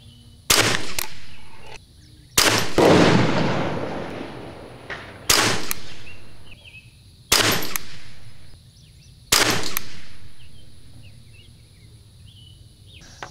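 A Bergara BXR Carbon rifle fires CCI ammunition, five sharp, loud shots spaced about two seconds apart, each trailing off into a decaying echo outdoors.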